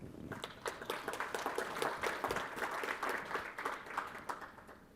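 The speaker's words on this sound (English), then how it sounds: "I think that's worth a round of applause for MongoDB" Audience applause at an AWS re:Invent 2016 conference session, a steady dense patter of many hands clapping continuously throughout at moderate volume, with no talk over it.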